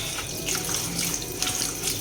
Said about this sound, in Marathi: आता आपण मेथीला 2 ते 3 पाण्याने स्वच्छ धुवून घेणार आहोत.